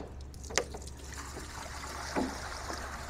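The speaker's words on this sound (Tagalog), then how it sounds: "salain muna natin yung tubig para sigurado tayo na clear yung tubig" Water pouring and trickling through a filter into a goldfish tank, a steady soft dribble with a couple of brief louder splashes, close by with no talking.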